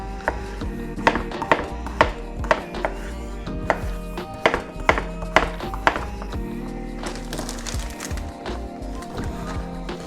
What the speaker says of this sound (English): dice them into cubes, maybe about 1 centimeter